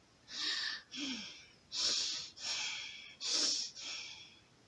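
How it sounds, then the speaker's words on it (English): Heavy, rasping breaths in and out, about six in a row with brief pauses between, close and fairly loud with no talking. "he could hear breathing"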